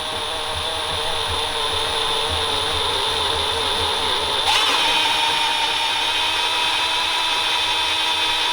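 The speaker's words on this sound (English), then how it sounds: "You just don't want to drill too deep." A power drill whines steadily at a high pitch throughout, its tone shifting and rising slightly partway through as it bites into the metal of an engine block.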